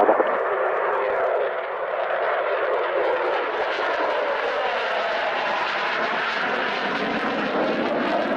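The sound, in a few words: Gloster Meteor jet aircraft flying a display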